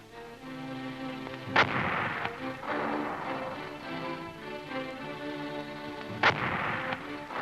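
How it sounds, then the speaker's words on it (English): Chinese mortars on the north bank of the Chindwin river shell the far shore in World War II, with two sharp, heavy blasts several seconds apart over a steady droning background. "The Chinese have set up their mortars on the north bank of the Chindwin and are shelling the enemy on the opposite shore."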